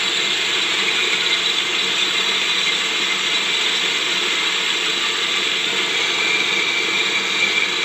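A Kadmec DM1509 stone flour mill grinds grain, giving off a loud, steady mechanical whir and rattle that holds without a break.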